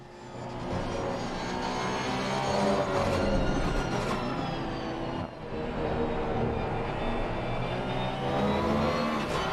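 Porsche race car engine in an esports racing game at Misano, a loud sustained roar that climbs and shifts in pitch through gear changes, with a brief dip midway and no voices.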